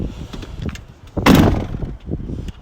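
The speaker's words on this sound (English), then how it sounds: "When you are shutting the back doors, make sure you shut the right hand doors first." Back doors of a T5 campervan being shut, giving one loud, close slam with a short rattle, framed by quieter handling knocks before and after.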